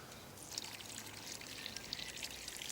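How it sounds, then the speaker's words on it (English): Water pours steadily from a can into a planting hole around a leek in a garden bed, a soft continuous splashing trickle with no talk. "Just fill it up with water."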